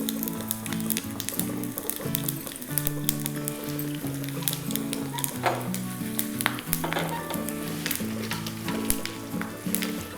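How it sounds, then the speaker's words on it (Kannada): Urad dal, chana dal and garlic tempering in hot oil, giving a steady close sizzle with light stirring scrapes and soft crackles throughout, with a strong tonal background running underneath and no speech. "ಉದ್ದಿನಬೇಳೆ ಸ್ವಲ್ಪ ಕಡಲೆಬೇಳೆ ಸ್ವಲ್ಪ ಬೆಳ್ಳುಳ್ಳಿಯನ್ನು ಆ್ಯಡ್ ಮಾಡಿ"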